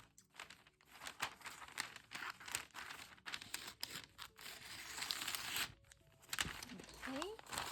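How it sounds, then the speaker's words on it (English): Close, quiet crinkling and rustling as a tablecloth for a bridal shower is cut and handled, with scissor snips and paper-like crumpling while a person talks. "So I'll just go ahead and cut it down."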